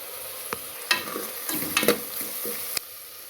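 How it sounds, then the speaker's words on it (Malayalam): Onions and bitter gourd sauté in oil in a pan on a low flame, a soft, quiet sizzle broken by scraping and knocking of a stirring spoon at irregular intervals. "ചെറിയ തീയിൽ അതൊന്ന് വഴറ്റി വരട്ടെ"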